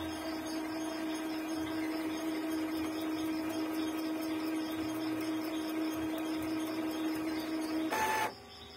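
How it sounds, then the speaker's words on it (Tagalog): An Epson L3110 inkjet printer runs noisily with a steady mechanical whir and a high tonal hum, close up. A sharp burst of grinding noise comes near the end before it drops quieter. "Pakinggan nyo yung ingay niya,"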